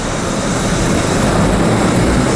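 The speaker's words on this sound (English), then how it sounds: "That was the train." A vintage nostalgia subway train roars past at close range, a loud, steady, dense rumble and rush that fills everything with no voices heard.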